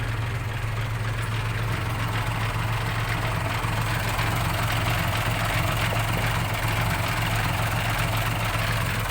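A Sany SY205C excavator's diesel engine idles steadily with a deep, even rumble and constant vibration, close and continuous with no voices, while loading sand into a Fuso truck.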